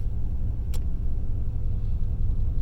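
Steady, close-up idle of a third-generation Chevrolet Camaro engine, a constant low rumble holding even RPM throughout with two brief clicks from a button press.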